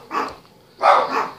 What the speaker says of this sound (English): Had to stop that barking situation.